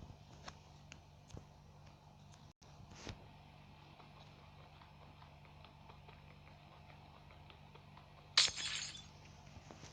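Breaking a lucky block in a video game produces a brief, sharp glassy shatter near the end over a faint, steady game background.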